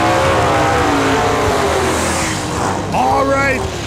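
Street cars, a 1966 GTO and a Chevrolet Camaro, rumble and rev at a drag strip. The engines hold a loud steady roar with rising revs near the end, and an announcer talks over them.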